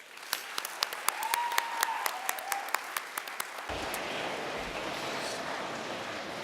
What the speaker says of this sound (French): one last huge round of applause